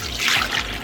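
Whole milk pouring into pudding mix, a short burst of liquid splashing and trickling into a bowl, close and fairly loud, with no voices.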